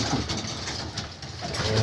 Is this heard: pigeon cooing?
yes